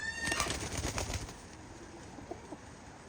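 Pigeons gathered for an auction give soft, faint cooing with a brief flutter of wings near the start, then fall to quiet background noise.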